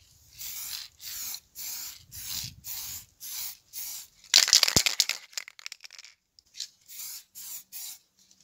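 Repeated short bursts of spray hiss as primer is sprayed onto a car fuel filler cap, close and rhythmic, with a brief scraping clatter in the middle before the spraying resumes in quicker puffs.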